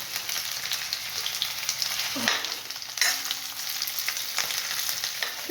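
Small diced potato pieces frying in cow ghee, a continuous close sizzle with occasional stirring scrapes and knocks of the utensil against the pan.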